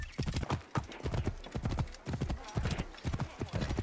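Horse hooves clip-clop in a quick, steady rhythm on hard ground in the video game Assassin's Creed Origins, close and clear throughout.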